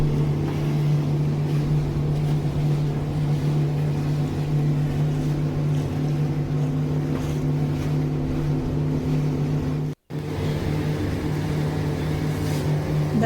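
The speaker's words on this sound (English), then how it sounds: "I'm taking this video while the boat is moving." Steady low engine drone of a houseboat underway on Lake Powell with water rushing beneath, continuous and close, with a brief dropout near the end.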